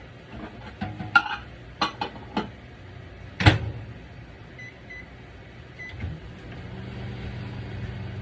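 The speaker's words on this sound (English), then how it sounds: "we're going to put it in the microwave" A microwave oven hums steadily at low volume after a few clinks of dishes and cutlery, with a soft beep near the middle.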